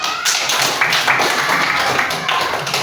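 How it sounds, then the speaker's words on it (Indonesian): A classroom of children claps for classmates who answered, a dense patter of hand claps with a few sharper taps standing out, fairly close and steady throughout. "Coba kasih tepuk tangan untuk yang sudah menjawab."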